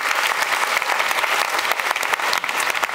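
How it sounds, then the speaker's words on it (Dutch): Warm, dense applause from an evening audience at a literary event, continuous sustained clapping from many hands. "Geef hem een warm applaus"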